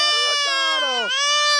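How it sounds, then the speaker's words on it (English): A baby goat bleats in a long, wavering, high cry that rises and dips several times, close and loud, with no pause across the stretch. "We got a little goat."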